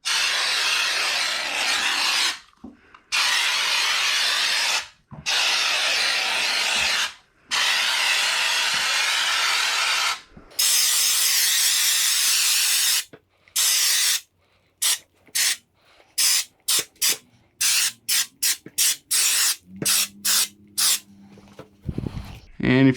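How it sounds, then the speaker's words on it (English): An aerosol can sprays drywall texture over a wall patch in long hissing bursts of several seconds each, separated by short pauses, then shifting to quick rapid spurts near the end. "when we spray this, we're going to want to spray it beyond the area of our patch"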